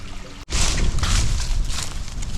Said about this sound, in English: this is our first real good creek that we've seen